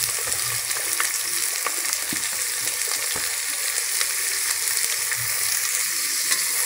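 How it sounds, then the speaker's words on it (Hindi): Onions, green chilies, cumin and bay leaf fry in a pan with a loud, continuous hissing sizzle. Occasional soft stirring clicks sound close by throughout, and no one speaks. "यहाँ पर 3 से 4 बड़े प्याज मैंने कट करके रखे हुए हैं और 2 से 3 हरी मिर्च, तो इसको भी इसमें हम डाल देंगे और इसे अब हम फ्राई करेंगे।"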